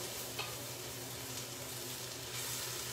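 Flour being stirred constantly in a hot pan, giving a soft, steady sizzling hiss with faint scraping, fairly quiet and continuous for a few seconds.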